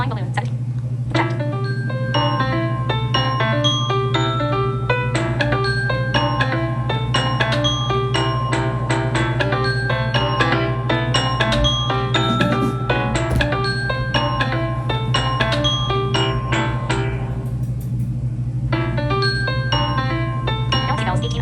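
The Samsung 'Flying balloon' ringtone plays as a quick, bright sequence of bell-like chiming notes that repeats over and over for about twenty seconds, with a brief pause near the end and no talk.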